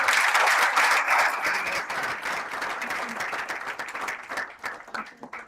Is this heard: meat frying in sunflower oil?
no